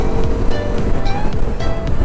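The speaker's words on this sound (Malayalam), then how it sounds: "നല്ല രീതിക്ക് കാറ്റ് പിടിക്കുന്നുണ്ട്, നല്ല കാറ്റുണ്ട് ഇവിടെ" Strong wind rushes steadily past a KTM motorcycle riding a highway toward Palakkad, a loud, continuous buffeting roar with no break across the moment.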